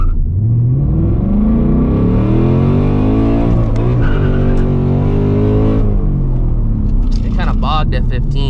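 A Ford Mustang GT S650 launches from a standstill, its engine revving up in a loud, rising roar that climbs and then drops as it shifts, with tire squeal and rumble near the end.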